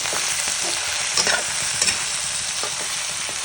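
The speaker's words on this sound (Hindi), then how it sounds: "अब इसको अच्छे से मिक्स करेंगे।" Gourd sabzi with coriander is stirred in a frying pan, giving a loud, continuous sizzle broken by several spatula scrapes and knocks against the pan.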